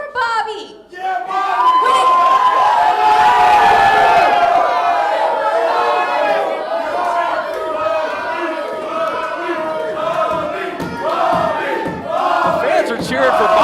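A wrestling crowd at an IZW Adrenaline show cheers and chants loudly and continuously, the rhythmic massed voices filling the hall for several seconds.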